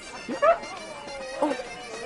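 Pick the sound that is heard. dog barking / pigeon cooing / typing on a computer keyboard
dog barking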